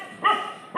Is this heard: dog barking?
yes